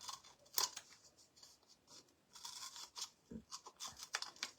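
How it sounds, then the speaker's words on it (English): Scissors snip repeatedly during a craft project to make an egg basket, giving close, crisp, irregular cuts with short pauses between them. "And then just clip with your scissors."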